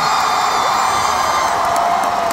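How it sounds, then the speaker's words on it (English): A concert crowd at a show cheers and whoops in a dense, loud, sustained roar mixed with clapping, filling the space continuously with no clear speech. "clap for one more song"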